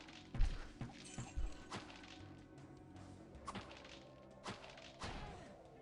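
Barrels explode in the video game Diablo with a run of soft, punchy thuds and whacks at irregular intervals, a few heavier bursts standing out over a low rumbling game background.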